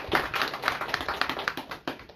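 A small gathering at a Krishna Janmashtami Ramayan mandali event claps faintly and unevenly, soft scattered hand claps at a moderate distance for about two seconds.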